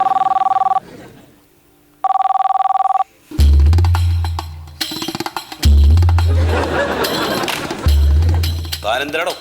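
An office telephone rings in two loud bursts of electronic trilling separated by a short pause, then people talk loudly over scattered clinks and background noise.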